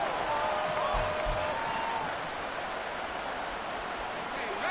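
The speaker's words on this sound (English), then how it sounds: "this crowd making it hard to hear" A stadium crowd at a football game roars in a dense, continuous wash of noise that stays loud and even throughout, with faint commentary-like talk partly buried underneath.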